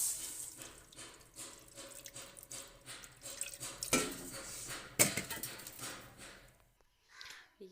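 A litre of milk pours into a cooking pot for colored vermicelli, a steady liquid splash and trickle with a few sharper drips and knocks, close and fairly quiet, with no talking.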